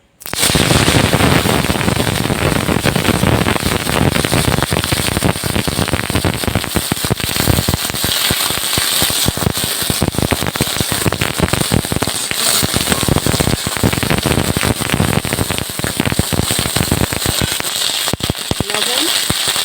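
Broccoli crackles and spits loudly and steadily in hot oil in a wok, a dense continuous sizzle with sharp popping bursts throughout, heard close up without talk.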